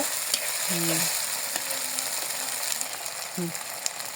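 Chili paste sizzling steadily in a pan for beef curry, a constant crackling fry with a few short tonal sounds, probably a voice, and light scraping clicks over it.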